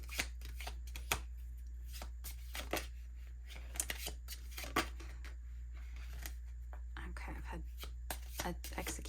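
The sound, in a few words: shuffling tarot cards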